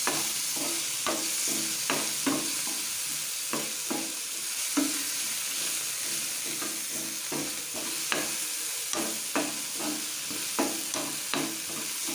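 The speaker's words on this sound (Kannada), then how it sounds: "ಟೊಮೆಟೊನು ಚೆನ್ನಾಗಿ ಫ್ರೈ ಆಗಲಿ." Tomatoes fry in oil in a pan for a capsicum curry, a steady close sizzle broken by repeated scraping clicks of a spoon stirring at an irregular rhythm. There is no talk.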